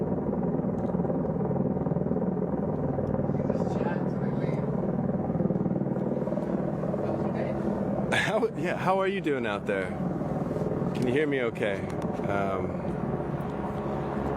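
A steady low rotor drone of a helicopter fills the background continuously while someone talks over it nearby.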